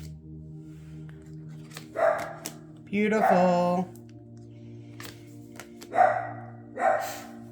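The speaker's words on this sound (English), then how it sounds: "My dogs are going ape shit." Several dogs barking indoors in short bursts, with a louder cluster midway and two sharp single barks near the end, mixed with someone speaking nearby.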